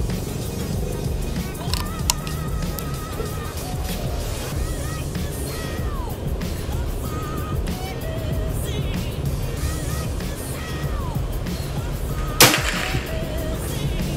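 One sharp shot from a folding-stock Predator air rifle rings out late in the clip, standing out from a long stretch of steady outdoor ambience.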